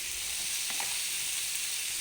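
Pointed gourd pieces fry with salt and turmeric in a pan, a steady, even hiss of hot oil with one soft stir-like bump, close and without speech.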